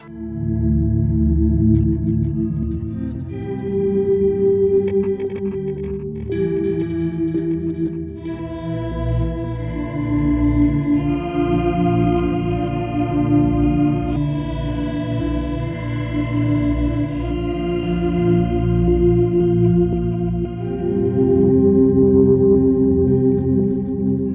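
An electric guitar played through a homemade effects pedal rings out in shimmering, chorused and slightly distorted chords, sustained and loud for the whole stretch, with no talking.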